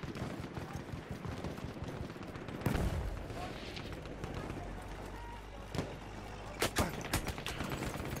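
Grenade blast and gunfire in the World War I shooter Battlefield 1, a loud burst near three seconds followed by scattered sharp shots, all under steady game noise and running footsteps.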